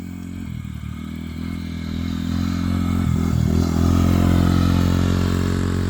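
A 2018 Yamaha Raptor 90 ATV engine, its carburetor recently cleaned, runs steadily nearby as it rides around. The drone holds fairly constant, then swells a little louder with some clatter, and no one speaks.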